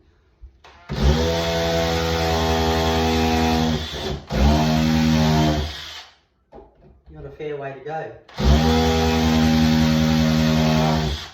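A power drill whirs steadily at low speed in several long bursts, with a pause where someone speaks briefly between runs.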